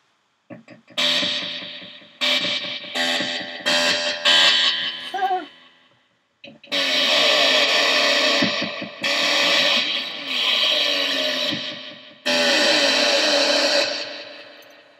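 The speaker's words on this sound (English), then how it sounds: "it's actually got reverb on this amplifier" Guitar chords ring through an amplifier's built-in reverb with a washy, echoing tail, played in bursts with short pauses between.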